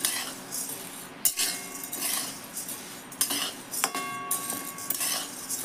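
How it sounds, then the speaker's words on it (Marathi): Grain for sattu flour is stirred and roasted in a pan, a metal spoon scraping and clinking against the pan in repeated close strokes, with a few sharper ringing clinks and steady scraping between them. "व्यवस्थित असं भाजत राहायचं।"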